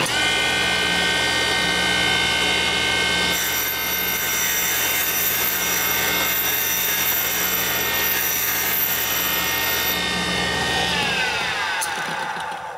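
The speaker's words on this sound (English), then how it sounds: "Doing a 35-degree back cut on these valves." A valve seat cutter makes a 35-degree back cut on the valves of a 1958 Harley panhead 74ci engine, a steady loud grinding whir with high metallic ringing tones that continues throughout and tapers slightly near the end.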